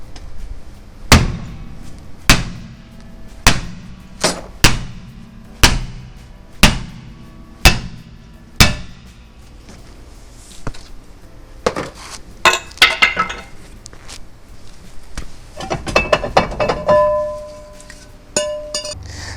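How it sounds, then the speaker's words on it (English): Heavy metallic strikes of a hammer on the rear brake drum of a 1985 Volkswagen Vanagon Westfalia ring out one after another at a steady pace, then a burst of quicker clanking and scraping with a brief metallic ring near the end. "So I did have to use a hammer to get the drum off."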